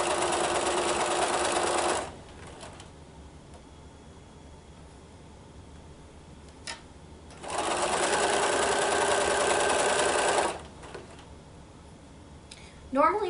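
A sewing machine stitches fabric pieces for a quilt block in two steady, close bursts of rapid whirring, separated by quieter pauses with light handling sounds.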